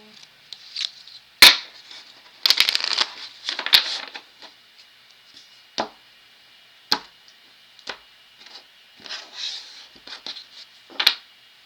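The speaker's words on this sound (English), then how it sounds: "All right, one more shuffle." A deck of tarot cards being shuffled for a collective reading, heard as close, irregular bursts of riffling and snapping card taps separated by short pauses, with no talk over them.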